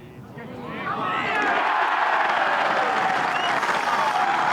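Golf gallery at the 2014 BMW PGA Championship applauding a holed putt, a loud, dense wave of clapping and cheering that swells after the first second and holds steady, mixed with crowd voices.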